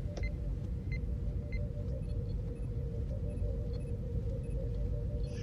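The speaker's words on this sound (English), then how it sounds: "Yeah, true. Thunder, that's right." Thunder rumbling low and steady throughout, a continuous deep roll with no sharp crack, joined by a faint steady hum and a few soft high ticks; no one speaks.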